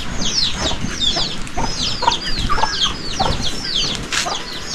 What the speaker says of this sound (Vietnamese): Thấy là cũng có đâu đó là 4-5 con gà này.